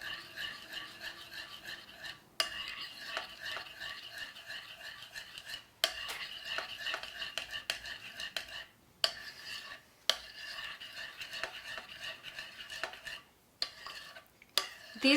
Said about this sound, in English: let's stir this together.